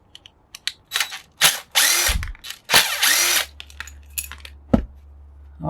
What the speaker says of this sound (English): I gotta unscrew this.